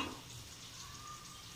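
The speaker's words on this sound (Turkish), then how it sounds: "Patlıcanlarım şöyle kızardı güzel güzel." Eggplants frying in oil in a pan for stuffed eggplant, a faint, steady sizzle that continues evenly throughout, with no talking.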